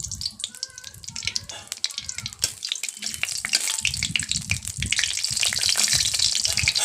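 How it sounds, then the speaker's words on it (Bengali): Whole bay leaf, cinnamon, cardamom and cloves fry in hot oil with a crackling sizzle that grows louder and denser toward the end. A voice is heard over the spattering. "এবার এর মধ্যে দিয়ে দেব তেজপাতা আর গোটা গরম মশলা, দারুচিনি, এলাচ, লবঙ্গ দিয়ে দিলাম"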